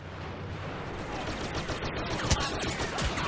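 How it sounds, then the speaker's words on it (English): Laser pistol fire in Star Wars Battlefront comes as rapid, overlapping blaster shots amid a dense battle clatter, with sharp bursts standing out near the end. "I'm firing my lasers, quite literally."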